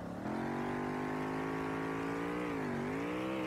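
An Audi S4 engine in the SLRR racing game revs steadily and loudly, its pitch climbing, dipping briefly and rising again in a continuous, close, synthetic-sounding drone with no voices.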